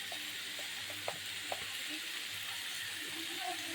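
Turmeric hits hot oil in a pan while chicken pepper dry is being cooked, producing a steady, hissing sizzle with a couple of faint clinks, close and fairly quiet.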